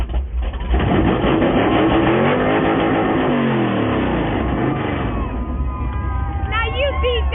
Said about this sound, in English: I'm in a 1968 Chevelle SS. I've got a 396 engine.